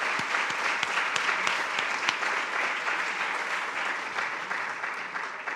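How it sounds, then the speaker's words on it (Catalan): Dense, sustained applause from an audience at a forest conference session honoring the participants, a steady wash of many hands clapping throughout, no talking over it. "Primer volia que féssim un aplaudiment per tots els participants"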